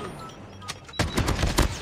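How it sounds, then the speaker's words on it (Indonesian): AK-47 rapid fire in Call of Duty Mobile, a quick burst of shots starting abruptly after a quiet moment and continuing close and loud to the end. "Fire rate-nya kurang kenceng, tapi emang ini sih AK-47."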